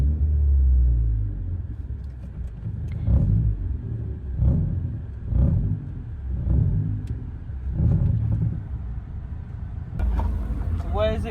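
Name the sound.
Ford Fiesta ST track car with dropped exhaust rumbling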